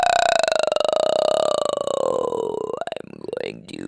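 A person imitates an alligator with a long, drawn-out burp-like croak, loud and close, holding steady for nearly three seconds before breaking into shorter gurgling grunts.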